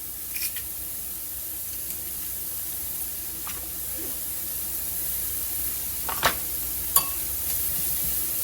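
Garlic cloves pressed into a pan cook with a soft, steady sizzle and hiss, with a few faint clinks and stirring sounds now and then.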